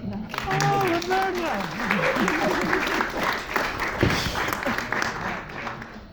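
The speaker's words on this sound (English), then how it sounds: "a round of applause for Roberta" Library audience applauding Roberta after a talk, a steady patter of clapping for several seconds with voices and chatter mixed in over it.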